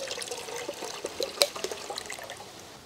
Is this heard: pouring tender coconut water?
yes